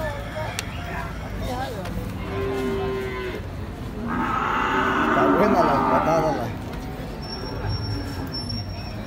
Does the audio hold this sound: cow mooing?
yes